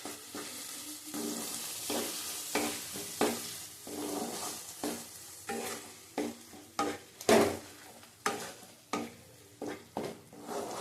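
Curry cooked with sour yogurt being stirred and fried in a pan, a steady sizzle broken by repeated scraping stirs at an uneven rhythm, close and fairly loud, with no talking.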